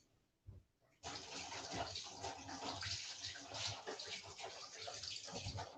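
Running water from a tap splashes steadily over a blender tamper tool being washed in a kitchen, a close, continuous gush that starts abruptly after a brief quiet moment.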